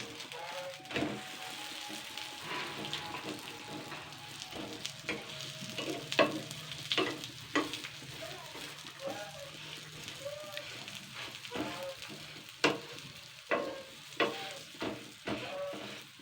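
A wheat-dough snack is flipped on a tawa and fries in refined oil with a close, steady sizzle. Spatula presses and scrapes come in uneven bursts.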